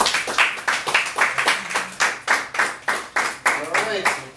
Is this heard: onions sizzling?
no